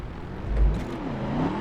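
A Porsche engine in The Crew racing game hums and rises in pitch as the car accelerates, a steady mid-range drone with a climbing rev, moderately loud and heard alone.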